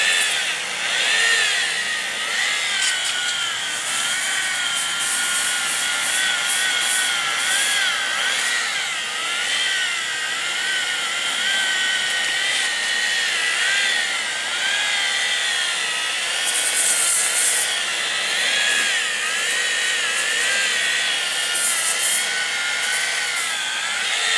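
A power drill with a buffing pad polishes car headlights, giving a continuous high-pitched whine with wavering pitch as pressure changes, loud and close, and a few brief harsher scuffing bursts along the way.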